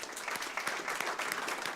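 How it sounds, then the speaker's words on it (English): A city council meeting audience applauds the commissioners, steady indoor clapping from a room of people lasting just under two seconds at moderate volume, with no talking over it. "I think they deserve a round of applause as well"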